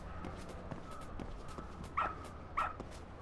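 A dog in the video game Lost Judgment gives two short, sharp barks near the end, over a low ambient game soundtrack with no voices.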